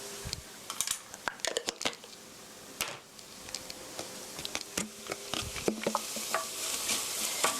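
Sugar and seasoning stirred into japchae, a Korean glass-noodle dish, with soft scraping clicks and clatter of utensil against bowl in an irregular rhythm, close and moderately quiet over faint background hiss.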